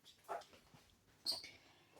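A dog whimpers faintly in the background of a home kitchen, two brief high whines about a second apart in an otherwise quiet room.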